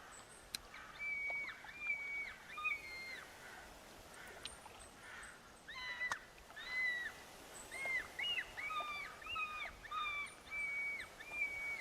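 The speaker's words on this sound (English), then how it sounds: "They're crows." Crows caw repeatedly in the game theHunter Classic, a series of hoarse calls at moderate distance over a faint outdoor ambience, with no talking.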